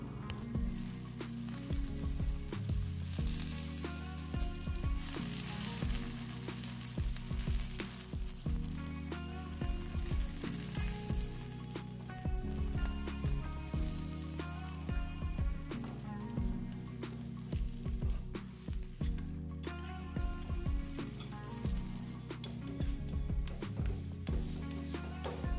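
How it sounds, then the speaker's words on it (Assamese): A paratha frying in refined oil on a hot tawa gives a steady, soft sizzle that runs throughout beneath rhythmic background music. "তেলখিনি গৰম হোৱাত পৰঠাখন মই তেলৰ ওপৰত লৈ ল'লোঁ।"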